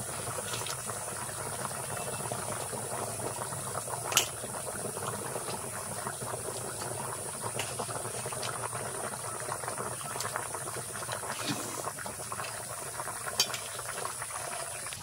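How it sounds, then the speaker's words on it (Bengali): Fish curry broth for fried katla fish bubbling steadily in a pan over high heat, a continuous close simmering wash with a couple of faint clicks and no talking. "দেখো টকবক করে ফুটছে।"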